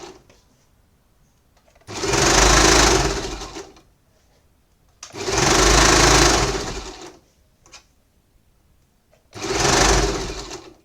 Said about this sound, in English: you set your machine and you can now start sewing